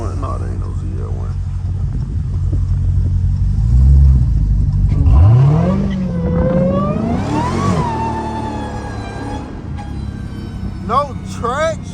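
Loud Dodge Hellcat accelerating hard with its wheels losing traction, the engine roaring and climbing in pitch in rising surges, close and dominant, while people talk over it.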